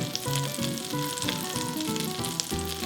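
Butter foaming in a hot pan for potato leek soup, a dense, continuous crackling sizzle, close and steady throughout with no talking.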